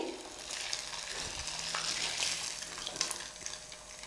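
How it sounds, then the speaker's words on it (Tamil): Idli pieces fry in hot oil with a dense, steady crackling sizzle, close and fairly loud, with a few soft stirring bumps mixed in. "இப்போது இட்லி நல்லா ஃப்ரை ஆகிடுச்சு"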